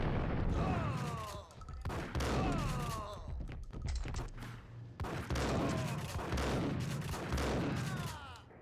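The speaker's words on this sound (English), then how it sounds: "They take multiple shotgun blasts before they even lay down." Rapid bursts of shotgun blasts and gunfire from the Max Payne video game, loud and near, firing in dense overlapping volleys with brief gaps, each shot cracking sharply over a constant low rumble.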